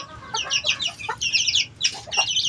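Chickens cluck nearby in quick, overlapping bursts of soft, choppy calls. The sound continues steadily with no talking.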